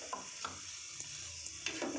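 Boiled, shredded chicken is tossed with softened carrots in a pan, giving soft scraping stirs, a few light utensil taps and a low steady sizzle. No one speaks over it.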